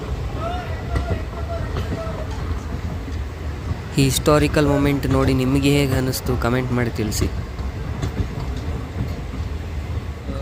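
Two new trains cross at Sindhanur railway station in Karnataka on the line's inauguration day, with loud horn blasts ringing out for about three seconds mid-clip over steady rumbling. Someone talks throughout.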